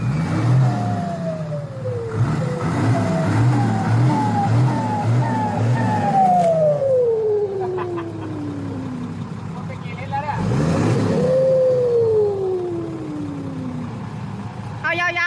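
A dump truck engine revs hard and loud, each surge climbing then sliding down in pitch as it winds off, with a rough idle between two big bursts close by.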